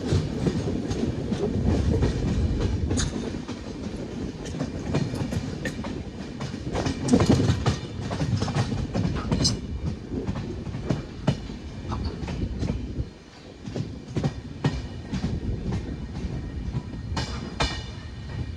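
Tirunelveli Bilaspur SF Express running on rails near Cherthala in Kerala: a steady, loud rumble of wagons with repeated clickety-clack wheel beats and sharp metallic clanks throughout, with no talking.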